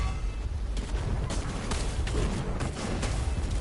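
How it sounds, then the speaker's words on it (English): Explosive bursts from an attack in a video game, a rough run of booming impacts over a dense, constant din with no clear gaps, loud throughout. "you get a nice little explosion with this one"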